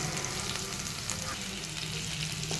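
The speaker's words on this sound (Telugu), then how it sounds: "చిన్న నిమ్మకాయ సైజ్ అంతా చింతపండు వేసుకొని మంచిగా ఫ్రై అవ్వనిద్దాం." Tamarind and lemon frying in a pan for mint chutney, giving a steady, soft, continuous sizzle with faint stirring scrapes throughout.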